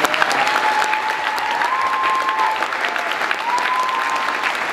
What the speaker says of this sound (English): One more round of applause.